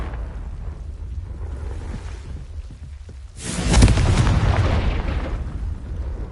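A Confringo spell in a Harry Potter video game bursts into a loud rumbling explosion about halfway through, cutting through low ambient noise and fading slowly over a few seconds.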